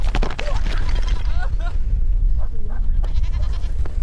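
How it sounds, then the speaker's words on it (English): A fleeing goat bleats in repeated wavering cries outdoors in cold open country during an eagle-hunting chase, loud and close over a rough wind-like roar and scuffling. "I think goat is free."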